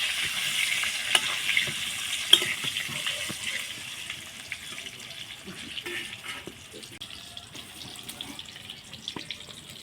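Potato pieces frying in a pan with turmeric powder, a soft, steady sizzle with occasional stirring clicks, fairly faint and unaccompanied by talk.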